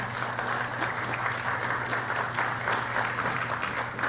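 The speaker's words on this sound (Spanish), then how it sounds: "un aplauso para nuestros ponentes." An audience at a gathering of anesthesiologists gives its speakers steady, continuous applause, full and even, with a faint hum running underneath.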